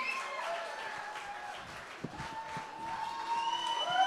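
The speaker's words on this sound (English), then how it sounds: "Let's get them cheers going" At a streamer awards ceremony an audience claps and cheers, scattered clapping and whoops with some voices chattering over the noise, holding moderately steady and swelling slightly toward the end.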